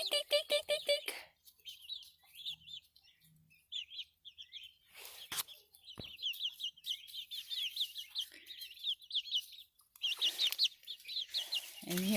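Frizzle chickens give soft clucks and chirpy peeps near and fairly quiet in a yard, with scattered bursts of call and brief handling noises between them.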